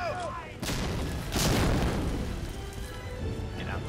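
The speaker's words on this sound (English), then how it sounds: "Grenade toss!" Grenade blasts in the World War II shooter Medal of Honor: Allied Assault Breakthrough: two loud, booming bursts close together, with rumbling game-battle noise continuing underneath.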